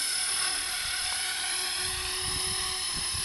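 A remote control helicopter in flight gives a steady, loud high-pitched whine of rotor and motor that holds constant throughout, with no talk over it.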